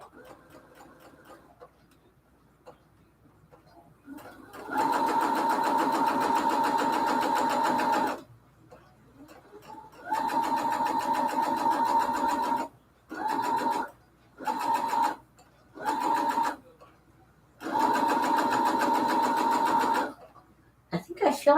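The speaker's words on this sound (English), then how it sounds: "my sewing machine sounds just fine" Home sewing machine stitching in several bursts, a long steady run followed by short stop-start runs with quiet gaps between, close and fairly loud, no talking during the stitching.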